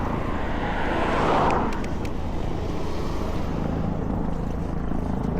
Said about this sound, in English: There's that helicopter right above me. You can hear it.